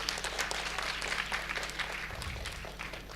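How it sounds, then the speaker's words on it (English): Audience at a film event applauding the crew, a steady wash of many hands clapping, fairly faint and distant throughout. "A big round of applause for them, please."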